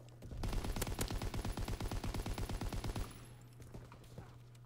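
Rapid automatic gunfire in a WW2 shooter video game, a fast burst of about two dozen sharp shots over roughly two and a half seconds, then stopping abruptly with a few faint sounds after.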